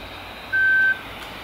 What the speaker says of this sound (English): We got in, the beeps come back